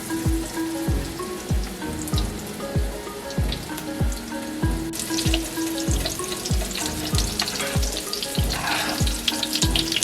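Shrimp burger patties fry in a pan, a constant close crackling sizzle with a regular thumping pulse beneath it, and no one talking.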